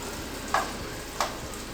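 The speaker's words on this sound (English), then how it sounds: "you need to fry the onion little more time" Onion frying in a pan while tomato sauce is readied for a chicken tikka and chowmein dish: a steady, faint broadband sizzle, broken by two brief stirring scrapes.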